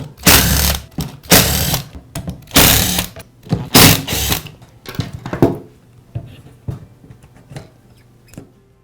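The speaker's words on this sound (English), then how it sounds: "We'll begin by removing the side cover at the rear of the grinder. It's secured with 5 screws." Screws being removed from the rear side cover of a DeWALT angle grinder, heard as close, loud ratcheting bursts of a driver in quick succession that thin into softer, scattered clicks toward the end.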